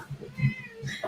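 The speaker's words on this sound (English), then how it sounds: "Obnoxious cats being obnoxious." House cats meow several times in quick succession, close and fairly loud, the short calls repeating in an uneven rhythm with no speech over them.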